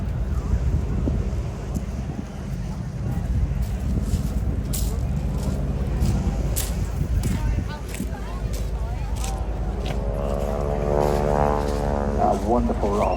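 The piston engine of a vintage bush plane rasps loudly as it passes at an airshow, roaring steadily under wind buffeting and a commentator's voice, then rising to a droning pitch sweep near the end.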